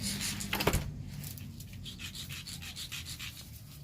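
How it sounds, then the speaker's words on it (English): A rock being scraped back and forth on cement outdoors, giving a close, rough rasping with a sharp scrape early on, then softer repeated strokes in a steady rhythm. "she's currently scraping a rock on some cement"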